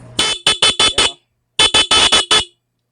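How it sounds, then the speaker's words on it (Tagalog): A stock motorcycle horn blares in two quick bursts of five short, loud honks each, separated by a brief pause. "Ayan o, busina natin mga ka-idol."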